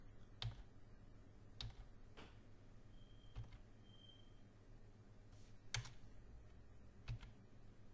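Sparse, faint keyboard keystrokes click at irregular intervals over a quiet room hum.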